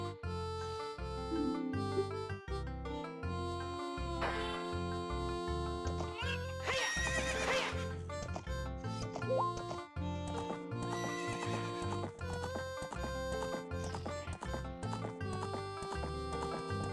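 Epona, the horse in the video game The Legend of Zelda: Ocarina of Time, gives a loud whinny over busy game music, with hoofbeats and other game sounds around it.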